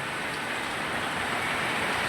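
A continuous wash of heavy rainfall in Moti Gop, Gujarat, broad and unbroken, holding at one even level with nobody speaking.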